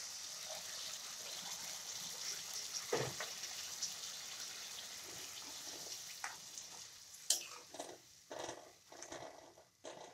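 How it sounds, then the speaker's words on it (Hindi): Roughly two glasses of water are poured into a hot cooking pan with sautéed ingredients, giving a soft hiss and gush followed by sharper sizzling bursts and splashes toward the end; no talk. "तो 2 गिलास पानी डाल देंगे हम।"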